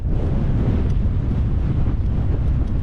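Steady, strong wind on a hilltop buffets the microphone with a low, continuous rumble and roar, no other sounds standing out.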